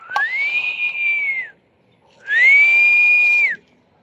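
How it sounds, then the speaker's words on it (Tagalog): A person whistles outdoors to call the wind while flying kites, giving two long, steady, high whistles separated by a short pause, clear and close. "Kailangan pagka walang hangin, sipol-sipol lang."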